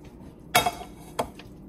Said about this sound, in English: Mix it around, make sure everything is incorporated.